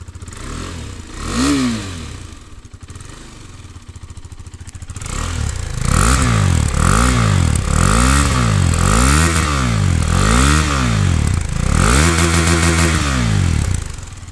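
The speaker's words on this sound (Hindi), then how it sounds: "तो बाइक स्टार्ट करके दिखाता हूँ गाइज मैं आपको" A 2022 KTM RC390 BS6 sport motorcycle engine starts with a short rev, settles into idle, then is revved repeatedly in strong rising and falling bursts, loud and close.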